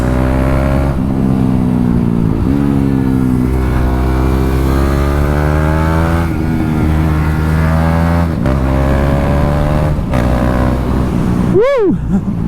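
A modified KTM 390 Duke single-cylinder motorcycle engine revs hard and loud up to the rev limiter, its pitch climbing and bouncing in steady bursts, with a sharp rising whine near the end.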